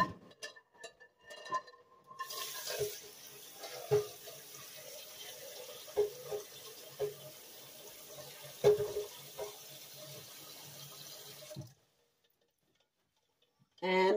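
Tap water runs into a pot of six eggs, a steady splashing stream with knocks and clinks against the pot, before the flow stops and near silence follows.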